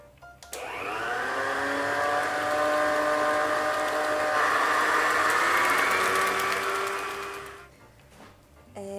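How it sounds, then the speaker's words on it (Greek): An electric mixer beats an egg into Christmas cookie dough, a loud steady motor whir with a slightly shifting pitch that runs for about seven seconds, close by, then cuts off. "θα χτυπήσουμε πάλι μέχρι να ενωθεί το αυγό με το υπόλοιπο μείγμα"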